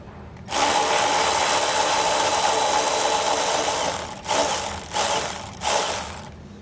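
A power tool whirs loudly while removing bolts from a 2014 Chevrolet Captiva, running steadily for several seconds and then stopping and restarting in short bursts.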